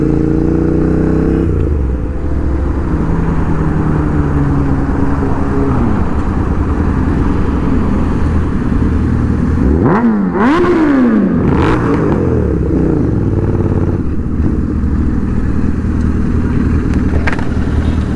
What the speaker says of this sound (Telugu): అవి చెవులు పేలిపోతాయి బ్యాక్ ఫైర్స్కి